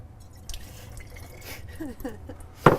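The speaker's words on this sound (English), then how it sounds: "I'm going to wring the water out of your face cloth and pour that into this flask" Water wrung from a face cloth trickles and drips into a flask, a few faint patters and splashes over quiet room tone, ending in a louder burst of dripping.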